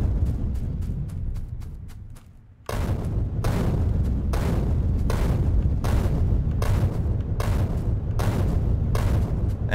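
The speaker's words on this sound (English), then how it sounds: "Hey, we get to use grenades again." Repeated grenade blasts in Factorio boom one after another in a steady rhythm, heavy and loud at close range, with no voices over them.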